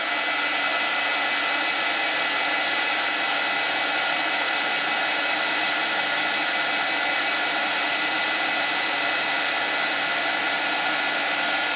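Heat tool blowing steadily to set embossing powder on a card, a loud, unbroken whooshing drone that holds for the full twelve seconds with no other sounds.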